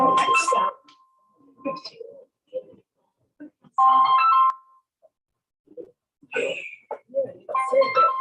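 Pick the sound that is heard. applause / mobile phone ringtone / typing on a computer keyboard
mobile phone ringtone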